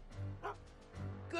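A dog in Back to the Future: The Game lets out a few short yips and whimpering barks in quick succession, fairly faint, mixed with a voice in the scene.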